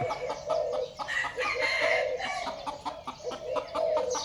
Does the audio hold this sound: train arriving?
no